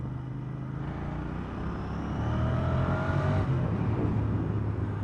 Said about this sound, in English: Definitely got a good note on the exhaust.